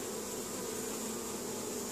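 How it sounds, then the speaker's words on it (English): A dense, continuous buzz of many bees humming together up close, steady and unbroken throughout. "these bees in the front are blowing pheromones out, letting the others know where their home is"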